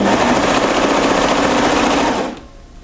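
Sewing machine stitching a sleeve and back seam on a French terry sweater, a loud, steady rapid whir running continuously for over two seconds before stopping abruptly into near silence.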